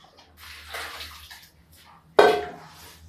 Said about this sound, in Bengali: এই হালকা গরম জল দিয়ে দিলাম একটু